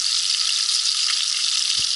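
Fresh fish fries in a pan at an outdoor fishing camp, giving a steady, dense hiss of sizzling oil that runs unbroken and close, with no talking.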